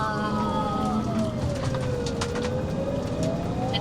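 An Australian ambulance on a lights-and-sirens emergency response, its siren wailing in long rising and falling sweeps over steady loud road and engine noise from inside the vehicle.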